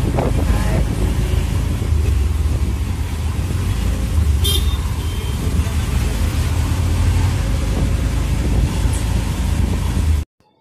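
Steady wind roars past a moving auto rickshaw, a constant rushing buffet over a low engine rumble, with no pauses until it cuts off.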